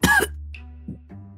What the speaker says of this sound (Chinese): 捂着嘴咳嗽几声